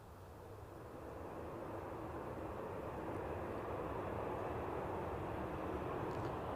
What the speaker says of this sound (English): this aircraft inbound from Mahon, Mallorca